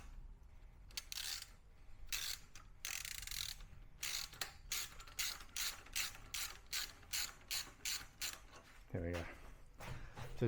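A socket ratchet tightens a bolt on an aftermarket exhaust for a Triumph Speed Triple 1200 RR motorcycle, giving a run of quick, close clicking strokes in bursts, followed by a brief voice near the end.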